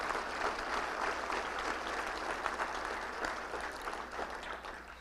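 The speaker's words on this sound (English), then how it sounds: "Let's give them one more round of applause" A room full of people at a Little Rock Touchdown Club luncheon gives a sustained, even round of applause, a dense steady patter at moderate distance that continues without pause.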